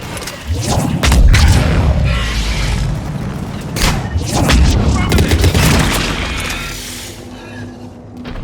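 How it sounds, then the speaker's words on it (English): Earthquake rumble in the Mass Effect 3 video game, deep booming low rumbles and thuds rolling in heavy waves, mixed with mechanical clatter and game noise, with some talk over it. "Another quake! That had to be Kalros."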